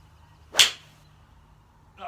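A Ping G hybrid or crossover golf club striking a ball outdoors: one sharp, bright crack, then quiet, with the start of another faint sound at the very end.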